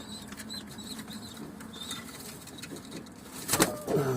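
Pigeons in a loft, kept tumbler-type play birds that are heavy and struggling to fly, with soft low cooing throughout and a burst of wing flapping near the end, close by and without talk.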